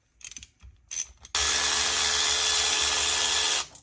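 A ratchet loosens bolts on the block of a Mercury 150 outboard engine. A few short clicking bursts come first, then a long, steady, rapid ratcheting run up close, with no talk.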